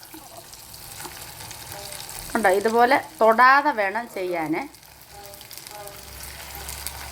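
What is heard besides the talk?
beef pieces frying in hot coconut oil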